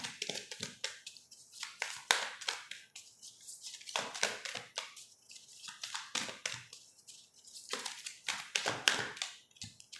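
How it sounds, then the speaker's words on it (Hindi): Tarot cards being shuffled by hand close up, giving repeated soft riffling and tapping bursts in an uneven rhythm, clear and alone. "और तब तक मैं यहाँ पर कर रही हूँ कार्ड्स को शफल।"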